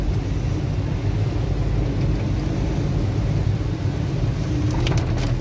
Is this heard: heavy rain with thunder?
yes